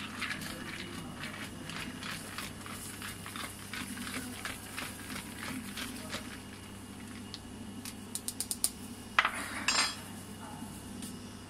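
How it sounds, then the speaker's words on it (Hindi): A bar spoon stirring a DaVinci Gourmet mint mojito over ice: a steady stream of soft rattling clinks and swirling ice, close by, with a few sharper taps of the spoon against the glass near the end. "बार स्पून की हेल्प से इसको अच्छे से मिक्स करना।"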